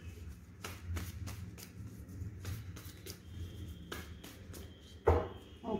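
A deck of Osho Zen tarot cards is shuffled by hand up close, with soft repeated riffles and flicks at a quiet level, then a sharper tap of the cards near the end.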